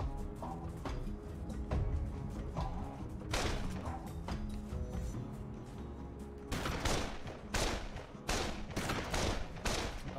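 Gunfire in a wintry multiplayer video game: bursts of quick shots and thuds, with the densest volleys coming near the end, all at a moderate level over game ambience.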